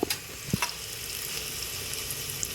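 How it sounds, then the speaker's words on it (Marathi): Chopped onion sautés in oil in a pan for Maharashtra-style misal pav, giving a steady, close hiss of frying with a couple of sharp utensil knocks near the start. "कांदा आपला परतून घेतल्यानंतर थोडासा गुलाबी होऊ द्यायचा आहे"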